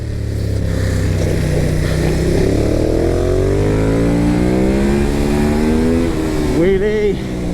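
Ducati Hypermotard 950 motorcycle on a race track, its engine revving up steadily through the gears, climbing pitch across several seconds, then bouncing off a soft-cut rev limiter near the end; loud and close.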